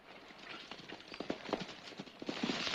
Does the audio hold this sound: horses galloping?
yes